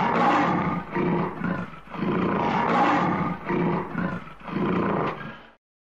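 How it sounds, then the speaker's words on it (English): A lion roars in a run of loud, rough bursts, each swelling and fading, close and alone for about five seconds before cutting to silence. "A lion goes."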